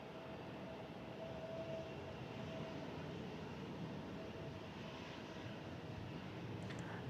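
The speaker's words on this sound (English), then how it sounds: "You now want to miss this at A350 Turkish Airlines." Turkish Airlines Airbus A350 climbing out of San Francisco International Airport, a steady, fairly faint jet roar heard from a distance with a broad rushing hiss and no talk.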